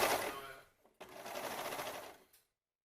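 A sewing machine stitches across a thick seam of a sports bra, running in two short bursts of rapid, close mechanical chatter with a brief pause between them before it stops.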